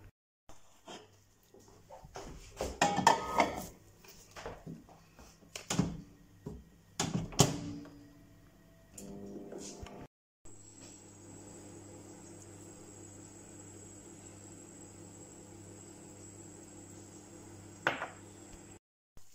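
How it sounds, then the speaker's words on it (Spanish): Potatoes go into a home kitchen microwave: scattered clunks and knocks of handling and the door closing, then a steady close hum as the oven runs, with a brief sharp sound near the end. "Lo voy a meter al micro."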